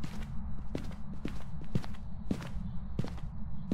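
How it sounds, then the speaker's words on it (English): Ghost footsteps in a garage in the horror game Phasmophobia, a steady series of heavy thudding steps at a walking pace, fairly close and loud with no talk. "I just heard the footsteps in the garage"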